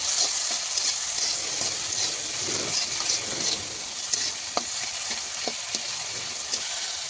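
Pasta fries with soy sauce in a pan, giving a steady close sizzle and a hiss, with occasional scraping and stirring clicks. There is no talk.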